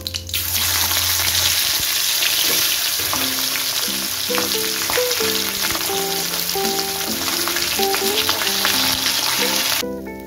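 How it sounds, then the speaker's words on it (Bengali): Fish heads fry in hot oil with a continuous, close, loud sizzle, joined by light intermittent clatter. "বাকি মুড়োগুলো ঠিক এইভাবে আমি ভেজে নেব।"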